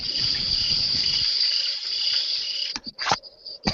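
A crickets-chirping sound effect gives a steady, high, continuous trill that carries on for several seconds, then breaks up into a few short bursts near the end.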